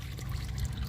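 Old engine oil drains from a 2000s Subaru Outback in a steady close trickle and pour, a continuous liquid stream with no talking.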